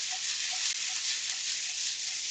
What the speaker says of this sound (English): I love that sound. Love it. Right? That's what we want. That's sizzling.